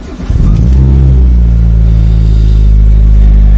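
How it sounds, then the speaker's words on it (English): A car engine fitted with a second alternator fires up and settles into a loud, steady idle close by, with a squeaking auxiliary belt whining over the running engine. "There is a squeaky belt."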